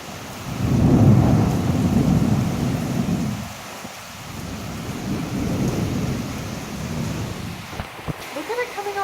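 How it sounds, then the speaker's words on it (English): A supercell thunderstorm pours heavy rain with rolling thunder, a loud low rumble that swells and fades under the constant downpour, with scattered brief voices near the end. "Look at the rain coming off the grill."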